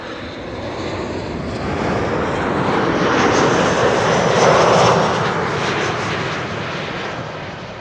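A KLM Boeing 737-800 jet arriving at Schiphol, a steady broadband roar that swells gradually toward the middle and eases slightly, loud and continuous with no voices.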